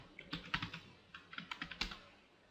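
A password is typed on a computer keyboard in a quiet room, a few soft key taps in two short bursts, close and clear with no talking.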